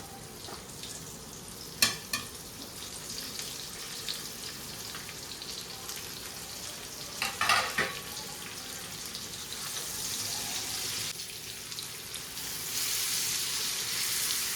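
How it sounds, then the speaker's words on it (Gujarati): Stuffed okra frying in hot oil with an asafoetida tempering in a pan: a steady close sizzle and hiss, with a couple of sharp clattering knocks of a utensil and no talking. "હવે ભરેલા ભીંડાને આમાં મૂકી દઈશું."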